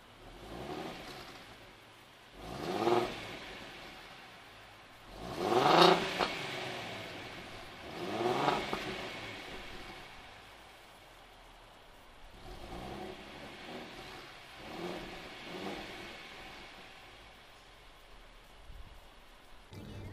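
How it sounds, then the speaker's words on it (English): A 2015 Ford Mustang V6 with BBK shorty headers revs in a handful of separate bursts, dropping back to a rumbling idle between each, heard close by. "And this is the car with BBK Shorty Headers."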